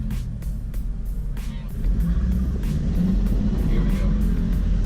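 Volkswagen Jetta in manual mode on an autocross course, its engine droning steadily and rising in revs partway through, heard from inside the car with a low rumbling roar and occasional clicks.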